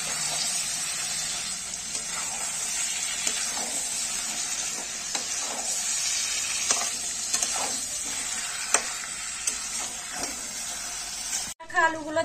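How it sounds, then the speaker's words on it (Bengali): Chicken meat stir-fried in a pan in a home kitchen, a constant hissing sizzle with occasional scraping and stirring knocks, ending in a sharp clatter and shuffling. "মাংসটা কেমন ভালো করে কষানো হয়ে গেছে"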